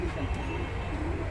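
Pigeons coo softly at a pigeon market in Bogura, a low murmuring coo over a dense, steady bed of market background noise.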